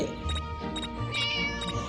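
A cat meows repeatedly inside the Scary Teacher 3D video game, several drawn-out cries over steady game background sound, with no voices.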